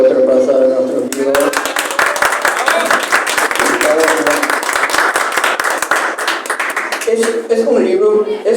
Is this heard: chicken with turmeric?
no